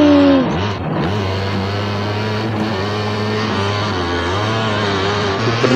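Motocross motorbike engine in an Upin Ipin video game, a loud steady mechanical drone with rising and falling revs, held close and continuous for the whole stretch, no talking over it.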